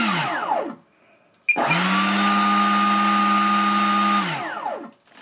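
An electric model boat motor, an early EPA Flying Shark, spins up under throttle while running backwards: a short whine fades out, then a sustained, steady high-pitched motor hum holds before winding down.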